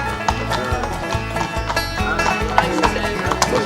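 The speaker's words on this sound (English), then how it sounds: "you're about to get run over by some horses, Bob." Several horses walk past on a hard surface, their hooves clip-clopping loudly and close in an irregular, overlapping rhythm, with a brief whinny and some faint voices underneath.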